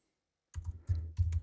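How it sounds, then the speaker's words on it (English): Keyboard typing sound effect from a Keynote text animation: three quick bursts of clicky keystrokes after a short silence, close and fairly loud with no talk. "this is someone typing"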